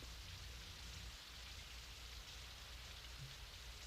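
Rain falls as a quiet, steady hiss with a faint low rumble underneath, constant throughout and heard on its own with no voices.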